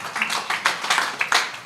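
An audience applauds at a public address about Rempang given by the head of BP Batam. The clapping is brief and uneven, with a few distinct bursts of handclaps over a soft murmur.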